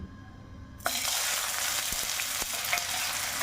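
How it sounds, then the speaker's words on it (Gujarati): Chopped onions drop into hot oil for a vegetable curry base, bursting into a sudden loud sizzle that holds steady, with a few soft clicks of a utensil against the pan. "તેલ બરાબર આવી ગયું છે આપણે ડુંગળી પેલા જેડવી લેવી"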